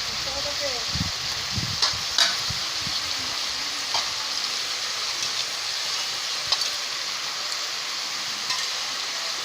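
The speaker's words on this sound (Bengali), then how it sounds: "তো ভালো করে নাড়িয়ে নেবে" Puffed rice and tomato are stirred in a frying pan over a steady sizzle, with a spatula scraping and clinking now and then. A voice speaks softly in the background.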